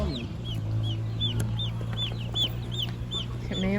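Chickens cluck steadily in a repeating series of short calls, fairly close, with a constant low hum running underneath.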